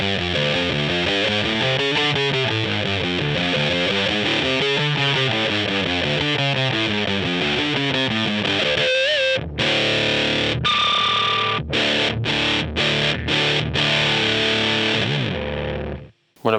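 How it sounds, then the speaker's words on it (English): Distorted electric guitar from a Telecaster with a P90 bridge pickup, played through a Sonicake Fazy Cream fuzz pedal, loud and sustained chords giving way to choppy stabs and brief pauses before a final cutoff. "So with the Telly, the Fazy Cream sounds like this."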